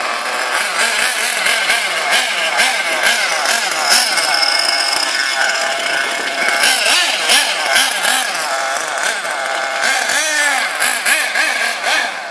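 An LX2 engine-powered RC car runs off-road, its small engine buzzing loudly and continuously with shifting revs throughout.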